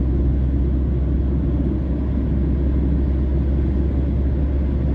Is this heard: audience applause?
no